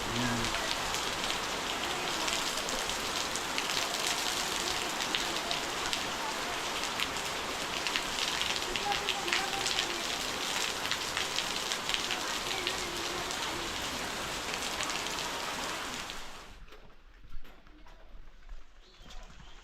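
Heavy village downpour in Konkan during summer, a dense, loud, unbroken hiss of rain on surfaces that suddenly drops away near the end, leaving faint dripping and a few quiet knocks.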